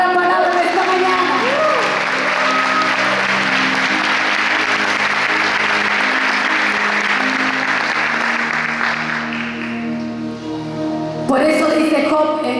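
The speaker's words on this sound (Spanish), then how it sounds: "Voy a aplaudir la palabra de esta mañana." A church congregation applauds loudly and steadily for about eleven seconds at a service, the clapping cut short near the end, with a voice carrying over the crowd.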